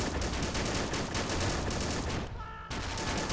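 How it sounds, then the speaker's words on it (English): Rapid, sustained .50 caliber machine gun bursts in a realism-modded Pacific island invasion war game, loud and close, with a brief pause near the end before the firing resumes. "using our 50 caliber machine guns to secure and"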